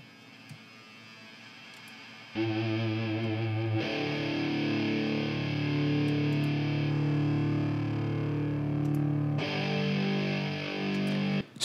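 A neurofunk track plays with a thick, distorted, droning bass layer that starts after a quieter intro and is shaped with EQ and auto-pan, holding loud and dense until a brief dip near the end.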